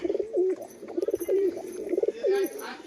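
A pair of light-coloured pigeons coos in rhythmic, repeated low rolling phrases close by, while someone talks quietly over them.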